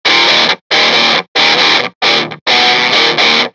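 Loud, heavily distorted electric guitar through an Amaya Electronics 3Tortion X2 distortion pedal plays five sustained chords with short silences between, gritty and saturated.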